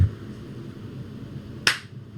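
A single sharp hand clap used as a football snap count for a Giants quarterback, landing alone near the end of a quiet stretch with faint room tone.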